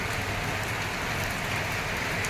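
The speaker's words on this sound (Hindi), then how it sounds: "आज देखिए सुबह से ही आज बहुत तेज़ बारिश लगी हुई है" Heavy rain pours down steadily on a winter morning, a dense, even hiss of drops hitting surfaces with no breaks, fairly soft and continuous.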